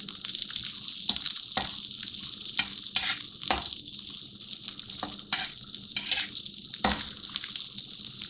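Onions softening in a hot pan for lauki sabzi, a bright continuous sizzle punctuated by the clinks and scrapes of a spoon stirring them, close up and with no voices.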